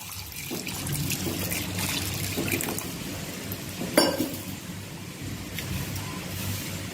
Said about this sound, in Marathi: कढईत शेंगा घालून एक ते दीड ग्लास पाणी घालायचे आहे